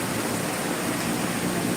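Heavy rain pours steadily in Johor Bahru, Malaysia, with cars driving along a wet road; a dense, continuous, loud hiss of rainfall fills the whole stretch without a break.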